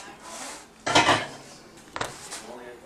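A utensil scrapes and clinks against a bowl while a mixture is stirred, with two brief louder knocks over a faint background, close and fairly quiet.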